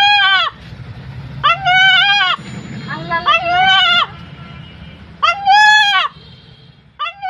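A pet rooster in a Pabna village crows loudly and close, in several long drawn-out calls separated by short gaps, while a crowd murmurs in the background.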